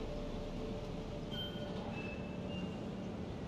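A train in the Spider-Man Remastered game rumbles past at close range, a steady low roar of rolling cars with faint metallic squeals of wheels on rails cutting through.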